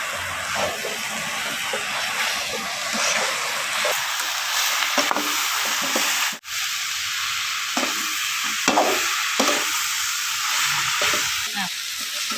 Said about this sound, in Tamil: எல்லாத்தையும் நல்லா உப்பு மிக்ஸ் ஆகிற அளவுக்கு நல்லா கிளறி விட்டுக்குவோம்